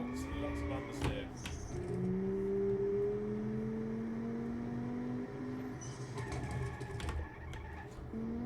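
A simulated car in the Automation driving game threads through corners with plenty of understeer, its engine note rising and falling in long pitch sweeps as it accelerates between bends, with short gear-change breaks.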